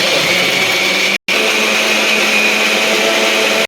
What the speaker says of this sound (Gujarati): દહીં નાખીને આને પછી મિક્સરની અંદર ક્રશ કરી દેવાનું છે એકદમ